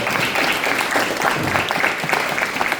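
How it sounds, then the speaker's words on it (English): An audience at a student-athlete talk gives Veronica another round of applause, loud, dense clapping from many hands that stays steady throughout this short stretch. "one more round of applause for Veronica"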